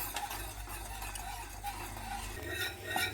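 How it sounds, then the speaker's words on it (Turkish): Pudding being stirred in a pot on the stove until it boils, with soft scraping and clinking of the utensil against the pot, steady and close, no talking. "Kaynaya, kaynayana kadar karıştırmaya devam ediyoruz."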